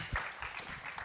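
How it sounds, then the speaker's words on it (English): Brief applause from an audience at a financial panel on athletes and wealth, a short burst of clapping lasting about a second with faint voices underneath. "Give James Bradberry a round of applause"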